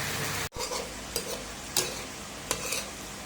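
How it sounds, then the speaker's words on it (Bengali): Salty greens stir-fry with dried fish in a pan, a soft continuous sizzle punctuated by a few sharp spatula strokes against the pan, quiet and close with no voices. "এরপরে হচ্ছে আমরা নোনা শাকটা দিয়ে এখন কষিয়ে রান্না করতেছি আর কি।"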